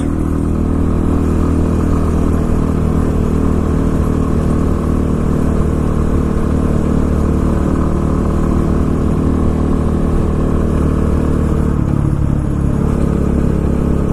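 A 2019 Pitster Pro XTR 250 LC dirt bike engine runs steadily and loudly up close, a continuous mid-pitched drone that holds even for about fourteen seconds, with a slight shift near the end.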